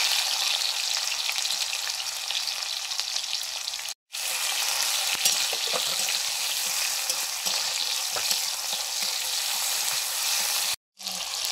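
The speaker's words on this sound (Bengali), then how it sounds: "শুকনো লঙ্কা দিলাম তেলে, পেঁয়াজ কুচি," Dried red chilli, chopped onion and tomato frying in hot oil, a loud dense sizzle close by, broken by two brief silent cuts, with faint stirring knocks under the hiss.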